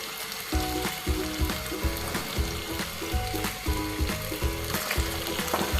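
Ginger garlic paste goes into a pan of sizzling potato bhaji, a steady loud frying hiss overlaid by a rhythmic, repeating mechanical clicking pattern throughout, with no talking.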